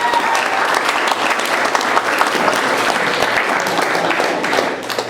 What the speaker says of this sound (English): let's have a big round of applause for our judges